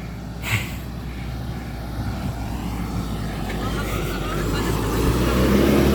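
A car sliding on a road, heard as a steady, close roar of engine and road noise that slowly swells louder over several seconds, with voices at times.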